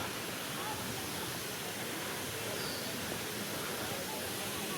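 Steady broadband roar of the Budar waterfall, a continuous rushing of falling water filling the scene at an even level with no pauses or other sounds.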